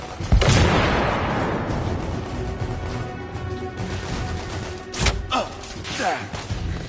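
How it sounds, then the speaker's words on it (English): A grenade explodes in the video game The Order: 1886 with a loud booming burst that decays into rumbling debris, followed by further thuds and sharp impacts amid combat noise. "Grenade!"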